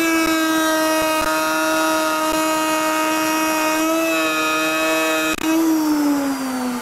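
Woodworking router spinning up and running steadily through a controlled plunge cut into a wood picture-frame blank on a Ring Master, a loud continuous high-pitched whine with a brief dip in pitch near the end.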